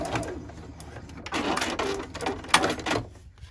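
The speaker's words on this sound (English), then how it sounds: "I'm stitching down on that piece of vinyl" A sewing machine with a Teflon foot back stitches on vinyl for a luggage tag, making a rapid, close mechanical chatter of needle strokes with a few short pauses and clicks.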